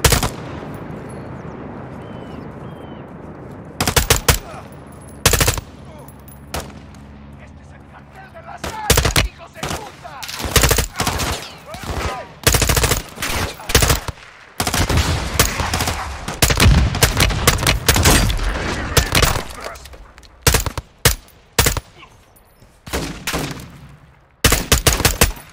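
Automatic and single gunfire from the video game Call of Duty: Modern Warfare II, in a cartel protection mission, crackles in loud, dense bursts and volleys, sparse at first and then near-continuous, with distant booms between.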